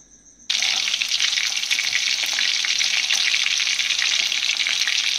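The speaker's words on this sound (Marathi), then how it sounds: "तेल टाकूया याच्यामध्ये." Oil poured into a pan for a clam fry starts a sudden loud sizzle after a quiet moment, then holds a dense, steady, close hiss to the end.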